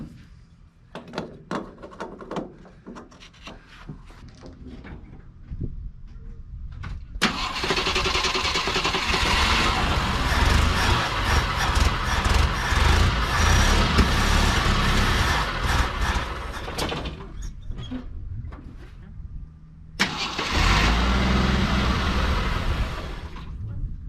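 A 42-year-old army jeep with a carburetor struggling for fuel is cranked repeatedly: clicking and sputtering at first, then a long, loud grinding crank that stops and resumes in a second burst without catching.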